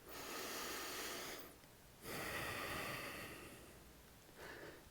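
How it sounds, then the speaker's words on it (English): Slow, audible breaths during a yoga strength and stability flow: two long airy exhales and a shorter third, close and fairly quiet with no talking. "Breathing here."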